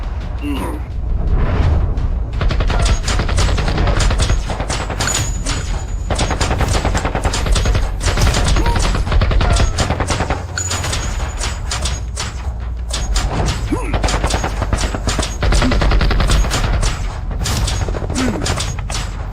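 Sustained rapid gunfire rattles without pause, dense bursts of sharp shots close and loud throughout.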